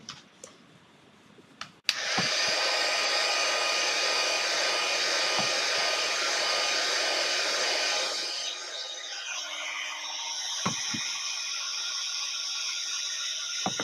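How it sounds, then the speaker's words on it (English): A heat embossing tool blows with a steady, loud whirring hiss close up, its pitch dropping slightly partway through, with a few small clicks and taps. "I'm going to go ahead and heat emboss"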